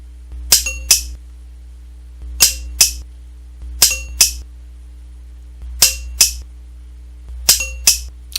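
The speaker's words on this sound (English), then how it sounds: "You just sight in and start pulling the trigger." A DryFireMag dry-fire training device clicks as the trigger is pulled, five sets of sharp metallic double clicks spaced evenly over a low steady hum, close and crisp.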